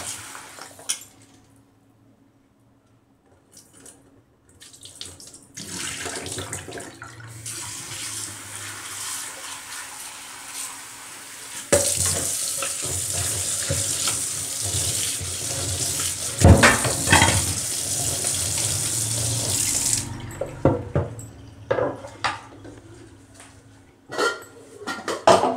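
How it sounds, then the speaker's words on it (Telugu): A kitchen tap runs over chicken pieces being washed in a sink, with quiet handling and clatter at first, then a loud, steady stream of water for several seconds before trailing off into more splashing. "దీన్ని మనం శుభ్రంగా సన్న ముక్కలు కట్ చేసుకొని శుభ్రంగా కడిగేసుకోవాలి."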